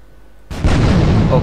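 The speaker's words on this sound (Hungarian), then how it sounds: "robbantottam egyet" A loud explosion in the video game Grand Theft Auto 3 bursts in suddenly after a quiet moment, with a heavy, sustained blast.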